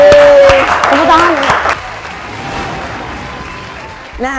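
A children's audience at an online kids' program claps and cheers in a burst that fades over a few seconds, with an adult voice and some children's voices over it.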